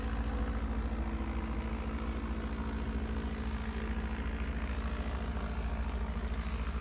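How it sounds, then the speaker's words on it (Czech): An airplane flies overhead outdoors in the Czech countryside, giving a steady, fairly quiet low engine drone with a broad rumble that holds through the whole stretch, with no talking. "Mám tady letí letadlo."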